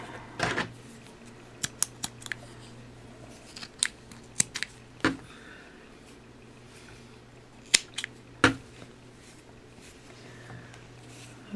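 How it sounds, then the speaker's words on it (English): Scissors snip yarn ends off a crocheted dishcloth, a series of sharp, close clicks spaced irregularly, some in quick pairs, over a quiet low hum. "And then I'm going to go back and cut all the other ends here."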